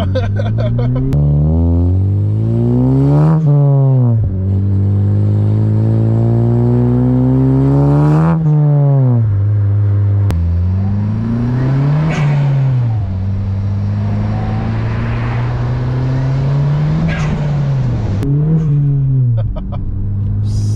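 A 2020 Honda Civic Si revs hard through repeated gear pulls, its engine note rising steeply then dropping at each shift. The pattern repeats about five times, loud and close, with no talk over it.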